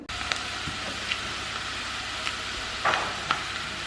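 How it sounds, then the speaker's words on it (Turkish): Vegetables sautéing in a pan for a Turkish olive-oil borlotti bean dish, a steady soft sizzle with a few light clicks of stirring, close and moderate, no talking. "Şimdi ilk önce bunları güzelce bir kavuracağız."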